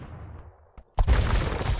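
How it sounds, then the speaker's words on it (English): A low rumble gives way to a sudden heavy boom, followed by a sustained roar of bombard cannon fire and crashing impacts on a wall in Age of Mythology, loud and close. "But bombard cannons starting to work away on this wall here for TaToH."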